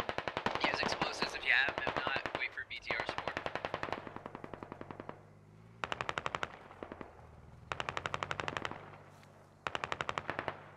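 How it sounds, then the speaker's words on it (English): Bursts of machine gun fire in a military squad shooter game, several rapid rattling strings of shots with short pauses between them, loud and close, with faint voices in the background. "Aiderkin just shooting over Money Man's head."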